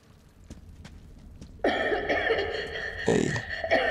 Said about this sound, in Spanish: Esa tos es de mujer.